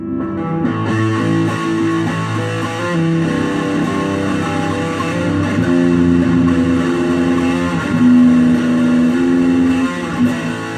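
A heavy, distorted electric guitar churns through a chugging riff of thick power chords, loud and sustained with no voices.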